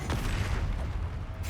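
A fiery Confringo spell explodes in Hogwarts Legacy, a dense, booming blast of crackling noise that fills the short moment and fades off.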